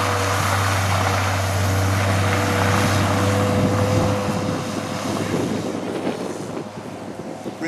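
A Ferret armoured scout car drives past outdoors, its fairly quiet engine giving a steady low hum with a droning tone under wind noise before it fades slightly as it moves away.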